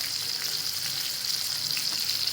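Pomfret fish fries in oil in a pan over low to medium heat, giving a steady bright sizzle with small pops, close and constant, and no voices.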